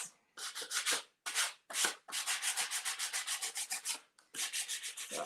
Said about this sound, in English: So I'm going to sand that down a little bit.